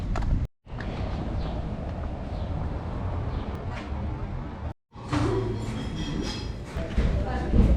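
A heavy, continuous rumble of an old-style tram in motion in a small Latvian city, close and loud, with two brief silent gaps and clattering over the tracks.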